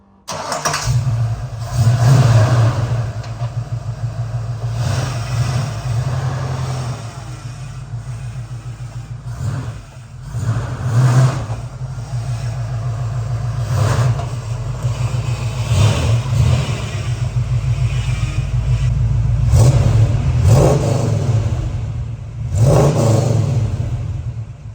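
A Foxbody Mustang engine rumbles at low speed as the car pulls into a garage, with several throttle blips and rising revs over a steady idle, loud and close, with no talk.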